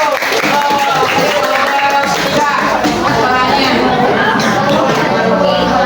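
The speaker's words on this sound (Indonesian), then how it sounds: "Tepuk tangan buat kelompok 1." Schoolchildren in a classroom clap for a group of classmates, a dense continuous patter of many hands mixed with chatter and shuffling throughout.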